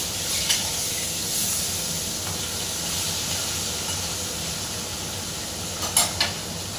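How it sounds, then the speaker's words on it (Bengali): Hilsa fish frying in a pan makes a steady, even hiss close by, with a few faint clicks and taps near the end as the fish is turned over. "আপনাদের সাথে কথা বলতে বলতে এক পাশটা ভাজাও হয়ে গেছে, এবার উল্টিয়ে দিলাম"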